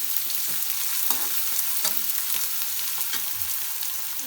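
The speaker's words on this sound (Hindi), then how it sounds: "बिल्कुल कम आँच पर हम एकरा प्याज के बढ़िया से भूजि लेबै।" Onion frying slowly in a pan with a pinch of salt over very low heat, a steady soft sizzle with faint stirring scrapes throughout, no voices.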